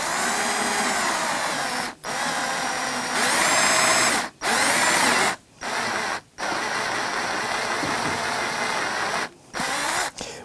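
A power drill bores into a soft spalted ash electric guitar body in long, loud, close whirring runs, each broken off by short pauses.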